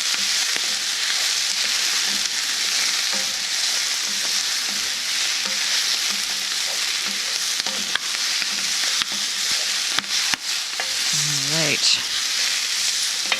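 Asparagus pasta primavera stirred in a hot pan, a steady close sizzle and fry with scraping stir strokes throughout, a brief voice cutting in near the end.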